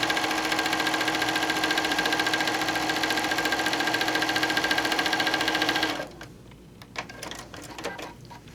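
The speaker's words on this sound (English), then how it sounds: "we're going to sew down, lining up our edges together" A sewing machine stitches down lined-up quilt edges in a steady, fast, continuous run, loud and close, then stops abruptly near the end, leaving faint handling noises.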